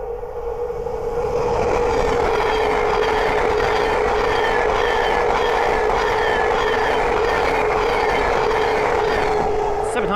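A Thameslink Class 700 electric train rolls past at close range at Great Wymondley on the East Coast Main Line, with a steady loud roar and rumble and a sustained electric-sounding hum through the whole passage.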